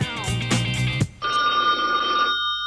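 A telephone rings loudly and close in two bursts, a jangling bell tone followed by a steadier electronic trill, and no voices are heard.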